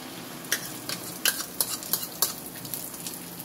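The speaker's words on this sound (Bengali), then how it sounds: "তো দেখো তেলটা গরম হয়ে গেছে, এবার আমি এর ভিতরে ডিমটা দিয়ে দেবো।" Beaten egg sizzles in hot mustard oil in a pan for street-style egg toast, a continuous hiss broken by several sharp clicks of a utensil against the pan.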